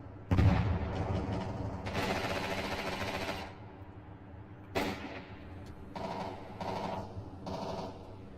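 Counter-Strike round with a thrown grenade: a sharp loud blast opens the passage, followed by bursts of rapid gunfire and further cracking shots in uneven clusters, no voices over it.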